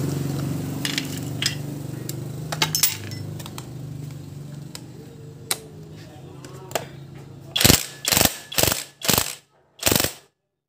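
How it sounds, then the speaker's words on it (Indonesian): Ratchet wrench tightening bolts on a Yamaha Vixion motorcycle engine, a rough clicking rattle under a low background, then five loud separate ratcheting bursts near the end, close by. "Kita tinggal kencangkan baut"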